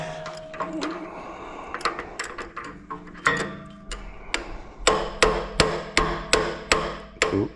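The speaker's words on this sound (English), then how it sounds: "So now I'm going to tap some more this way." Metal tapping on a part of a Kohler engine: irregular sharp knocks at first, then a run of evenly spaced, louder hammer strikes ringing close by, with no talk.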